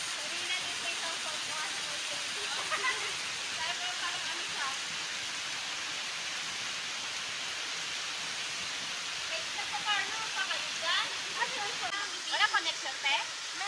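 Strong rushing stream water along the Ping Nam Stream hiking trail in Fanling, a steady close hiss of flowing water that persists throughout, with faint voices at moments.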